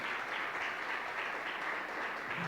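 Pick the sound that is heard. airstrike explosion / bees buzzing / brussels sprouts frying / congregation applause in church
congregation applause in church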